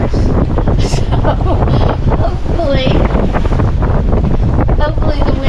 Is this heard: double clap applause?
no